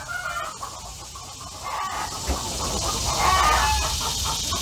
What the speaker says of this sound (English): I see another kind of chicken.